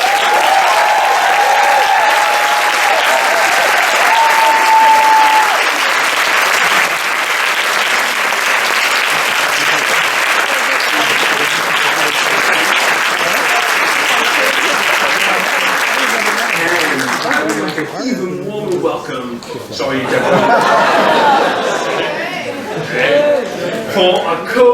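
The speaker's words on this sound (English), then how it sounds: "let's give a wonderful round of applause to the president of the French Debating Association" An audience at a French debating tournament final applauds loudly and steadily, with crowd chatter and voices mixed in, the clapping thinning out near the end while people talk.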